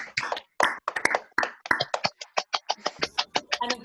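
Several online meeting participants clap with their microphones unmuted, producing a rapid series of sharp, uneven claps that overlap and then settle into a steadier, faster rhythm, moderately close and fairly loud.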